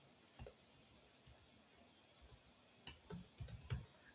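Sparse keystrokes on a computer keyboard, a few scattered clicks then a quick cluster of taps near the end, close but very quiet.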